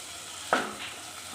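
Masala sautéing in a pan as a steady low sizzle, broken by one brief stir or scrape of the spoon.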